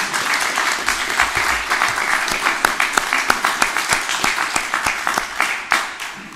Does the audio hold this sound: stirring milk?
no